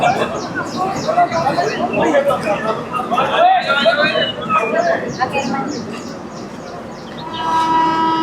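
A Mangala Lakshadweep Express train halted at the small Sangameshwar Road railway station, with a steady platform rumble, hissing and a brief high horn or whistle near the end, under loud continuous talk nearby.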